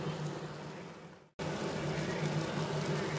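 Masala for crab curry sizzling and bubbling in oil in a pan, a steady, moderately loud frying hiss with a brief dropout partway through.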